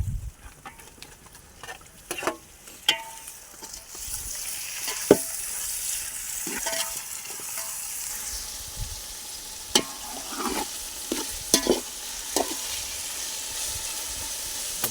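Tomatoes sizzling and frying in a pan for chicken biryani, a steady hiss broken by scraping stirs and clinks at irregular intervals, close and moderately loud with no talking.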